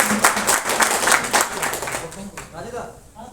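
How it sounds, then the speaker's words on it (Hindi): Clapping from an audience at a village assembly gathering, a short burst of rhythmic applause fading as a voice begins speaking. "तो इधर अपने लिए ताली बजाइए।"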